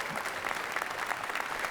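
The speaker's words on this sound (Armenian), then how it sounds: "Ծափարենք Կարենի շատ բարձր" Studio audience applause on an Armenian TV club show, steady dense clapping throughout at moderate level, filling the moment without pause.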